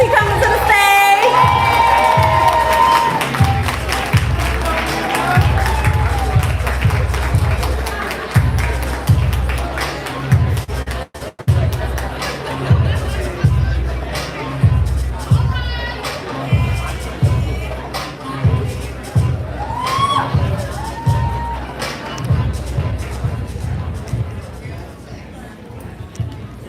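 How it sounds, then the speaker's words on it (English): An audience at a live poetry event in Chicago claps and cheers as a poet walks to the stage, with rhythmic group clapping, whoops and shouts, and voices calling out over the crowd throughout. "y'all keep clapping as he comes to the stage"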